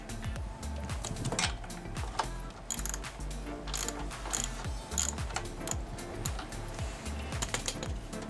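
A fog light bolt on a Land Rover Discovery 1 being tightened with a ratchet, rapid clicking pawl bursts repeating in short runs, close up and fairly quiet.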